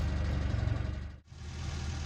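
VAZ-2106 car engine running steadily with a low, rumbling idle, close and continuous, with one brief dip partway through.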